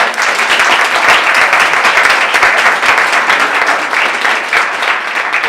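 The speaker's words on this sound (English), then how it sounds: "a round of applause" Loud, sustained applause from the audience at an AI meetup talk in Amsterdam, many hands clapping in a dense continuous wash that stays strong throughout.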